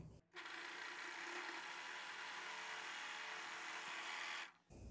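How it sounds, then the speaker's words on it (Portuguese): An overlock sewing machine finishes a fabric edge for a pillow kit, running in one steady, continuous whir for about four seconds before stopping. It sounds fairly quiet and close, with no talk over it. "Eu vou passar o overlock."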